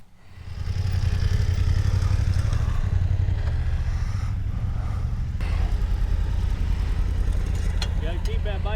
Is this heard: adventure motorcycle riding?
yes